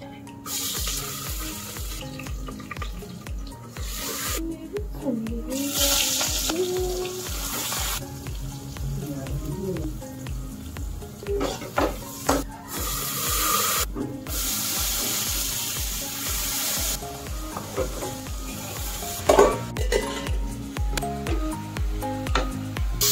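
Chopped garlic fries in a home kitchen pan, sizzling steadily while a utensil scrapes and stirs at intervals. A few louder clatters and bursts of running water come through close and clear, with no talk.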